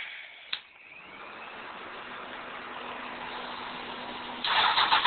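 A custom 1988 Honda Hurricane 1000F motorcycle engine starts with a brief crank and catch, then settles into a steady idle hum that swells louder near the end, heard alone.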